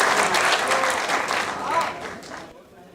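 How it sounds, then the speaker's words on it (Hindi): Loud applause from a mushaira audience at a poetry gathering in Noida, dense clapping sustained for over two seconds before thinning out and fading near the end. "एक बार पूरा मजमा का जोरदार तालियों से इस्तकबाल करें अपने इस महबूब शायर का"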